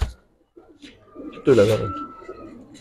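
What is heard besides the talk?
Chuithal pigeons cooing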